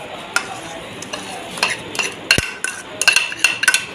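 Semolina being stirred into gram flour roasting in a pan for a semolina and gram flour sweet, with scraping spoon strokes and light clinks against the metal, irregular and moderately close, no talk.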